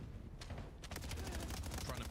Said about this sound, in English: So far, it's a lot of gunfire.